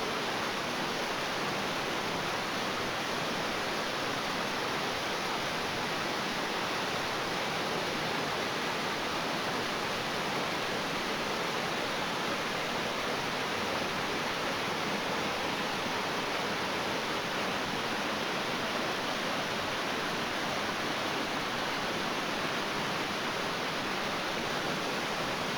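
Waterfall at Bridal Veil Falls roaring steadily as a dense, broadband rush of falling water, loud and unbroken throughout with no voices.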